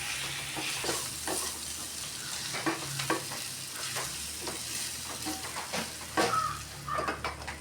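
Jackfruit masala with pepper powder being stirred in a pan, with a steady sizzle of frying and repeated scraping taps of the spoon against the pan, close and continuous, with no voices.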